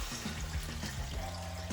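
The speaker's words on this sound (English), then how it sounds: "So you're gonna put some water in there." Water poured into a cooking pot over chicken for a Thai hot and sour chicken soup, a steady close splashing trickle running throughout the short stretch without talk.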